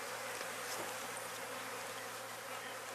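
Honey bees at a hive entrance along their flight path hum in a dense, continuous buzz, steady and close throughout with no voices over it.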